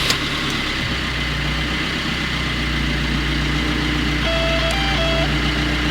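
An Alfa Romeo MiTo engine idles steadily after a restart, a low, even mechanical hum heard close and loud throughout with no break, a faint electronic tone rising briefly near the end.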